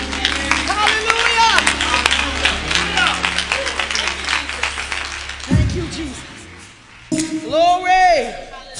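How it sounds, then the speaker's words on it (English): A concert crowd claps hands rhythmically beneath loud preaching and shouting, the applause steady and dense before fading behind the voice. "clap those hands one more time"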